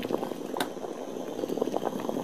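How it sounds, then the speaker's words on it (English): Water boils vigorously on a flat induction heating coil driven by a ZVS driver at about 14 amps, giving a close, steady bubbling and crackling with irregular pops and sharp snaps. "It's quite boiling."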